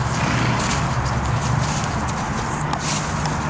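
Horse hooves walking slowly on the ground as a horse being rehabilitated for tripping is backed up, soft irregular clip-clops over steady outdoor background noise, with no talking.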